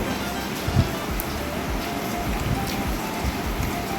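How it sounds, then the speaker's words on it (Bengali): Heavy rain falls in a steady, dense broadband wash that stays even and continuous throughout, near and fairly loud, with no clear voices over it. "প্রচুর বৃষ্টি প্রচুর বৃষ্টি"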